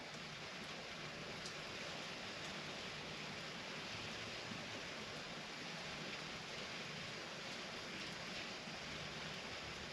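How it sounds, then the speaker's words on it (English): Water running from the spout of a log cabin water filter into a cup, heard as a steady, even wash of splashing noise that carries on without pause and never breaks into separate drops. "It's starting to drip now."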